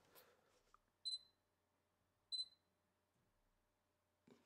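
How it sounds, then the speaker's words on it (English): Two short, high electronic beeps about a second apart from a Sony Alpha A7S camera in silent shooting mode, clear and close in an otherwise quiet room, with soft clicks at the start and end. "So the beep is still there. The camera beep, you have to turn that off separately."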